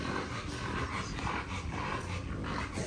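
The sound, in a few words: dog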